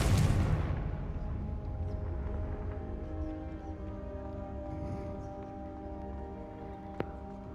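A loud blasting spell explosion from Confringo in Hogwarts Legacy bursts at the start, then decays into a long rumbling tail under sustained magical tones, with a brief sharp crack near the end.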